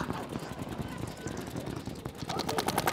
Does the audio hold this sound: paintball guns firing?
yes